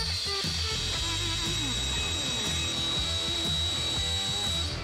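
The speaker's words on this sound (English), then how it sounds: "That's a nice drill." A power drill whines steadily up close while drilling into custom motorcycle parts, its high motor pitch shifting as it bites into material, loud throughout.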